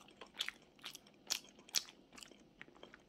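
Soft, close crunching and chewing clicks come in quick irregular bursts as someone eats chewy glutinous rice sweet potato bread with a filling, with no speech.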